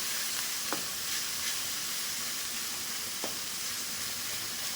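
Salt, turmeric and cumin powder fry in oil as masala for okra, giving a steady, close sizzling hiss broken by a couple of faint spatula taps.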